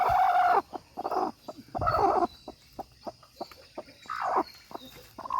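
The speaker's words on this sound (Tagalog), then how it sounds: "Ayan, may mga sisiw nito." Native chickens on a farm cluck in repeated bursts close by, with brief short clucks and peeping between the louder calls of the hens.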